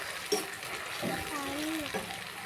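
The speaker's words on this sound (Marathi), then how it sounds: "मग टमॅटो चांगलं व्यवस्थित भाजून घ्यायचं." Tomatoes sizzle in a hot pan while being sautéed for pithla, a steady frying hiss lasting throughout, close by, with a voice faintly audible over it.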